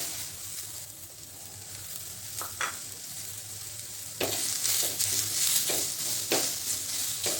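Onion frying in oil in a pan, a steady broadband sizzle with scraping stirs; the sizzle grows louder and brighter partway through, with several sharp utensil strokes near the pan.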